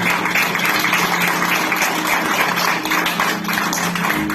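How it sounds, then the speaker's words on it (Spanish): A church congregation applauding, a dense, loud, sustained wash of many hands clapping together that continues steadily without a break. "Un aplauso a nosotros."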